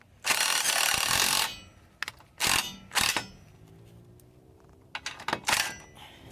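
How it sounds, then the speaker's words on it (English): Pneumatic impact gun driving bolts into a rock slider on a 1989 Jeep Cherokee, close and loud rattling bursts, one long run then several short hammering spurts with pauses between them. "just chuck it into an impact gun and run it in"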